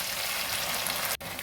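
Ginger garlic paste sizzles in a frying pan with a loud, continuous hiss and crackle that cuts out briefly just before the end.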